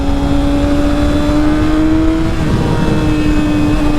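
Yamaha R6 motorcycle pulling hard under acceleration, a loud steady engine drone with rising pitch held close and constant throughout, no voices.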